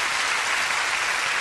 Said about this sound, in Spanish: Un aplauso para el maestro Valentín Trujillo y su orquesta